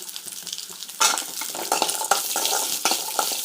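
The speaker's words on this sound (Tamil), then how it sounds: "சின்ன வெங்காயம் ஆட் பண்ணிக்கலாம்." Small onions (shallots) hit a hot pan for a tomato chutney, jumping from a quiet stir to a loud, bright sizzle that crackles steadily with scraping stirs until the end.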